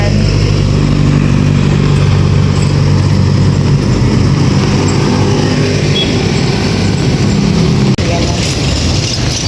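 Steady road traffic on a wet highway after rain, with a constant loud engine and tire roar from passing cars and motorcycles up close, and a voice speaking over it.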